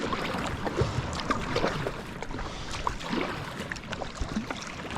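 A kayak moves across the water on a morning fishing trip. Close, continuous splashing and lapping come with paddle strokes and small knocks against the hull. Outdoor wash sits underneath, and no one speaks.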